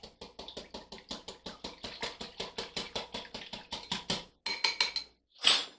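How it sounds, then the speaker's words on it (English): A whisk beats egg in a bowl for homemade pie crust dough, a close, steady run of quick rhythmic clinks and taps against the bowl, briefly pausing near the end before one last sharper scrape, with no talking. "I'm just going to whisk that up a little bit."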